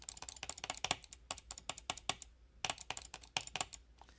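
An older Logitech MX mouse with its louder clicking mechanism, clicked rapidly and close up in a sharp, uneven burst of crisp clicks with a brief pause midway.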